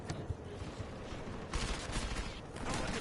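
Gunfire in the video game Deus Ex: Mankind Divided, a dense crackling volley of shots that thickens into sustained bursts partway through, with no voices over it.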